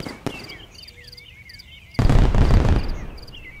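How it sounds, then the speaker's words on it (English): Fireworks go off in a tabletop game sound effect: a sharp pop, whistling rising trails, then a heavy, rumbling burst of explosion that crackles and decays, all loud and close with no talk. "you hear three fireworks go off"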